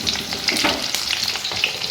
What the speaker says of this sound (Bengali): এইবারে আস্তে আস্তে দিয়ে দেবো আলুগুলো, আর তার সঙ্গে দিয়ে দেবো পেঁয়াজগুলো।